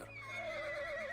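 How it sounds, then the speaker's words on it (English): Warhorses neigh in the Reverse 1999 video game, a single drawn-out whinny with a wavering pitch that carries steadily for about a second, fairly quiet and heard alone. "Not far off, a few warhorse neigh."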